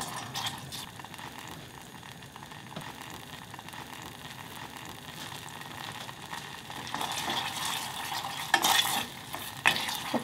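Black bean paste stirred and roasted in oil over medium heat in a pan, a continuous soft sizzle and frying crackle with scraping stir strokes that grow louder near the end, no voices.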